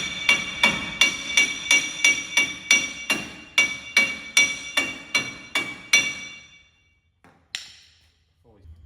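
Hammer tapping a Ford 9-inch rear axle shaft onto its splines during a 1979 F150 rebuild: about fifteen sharp, ringing metallic strikes in a steady rhythm, close and loud, then a final lighter tap after a pause.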